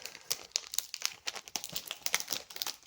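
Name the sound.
ripping open an album's plastic sleeve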